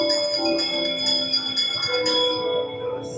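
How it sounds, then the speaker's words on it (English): A bell rings with sustained, shimmering tones inside Disneyland's Haunted Mansion ride, several strikes layering over one another and slowly fading. "give us a hint by ringing a bell"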